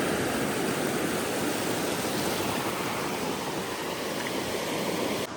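Sea waves at Aare Ware beach on the Konkan coast make a steady, loud, full roar of surf that fills the whole stretch without pause, with no voices.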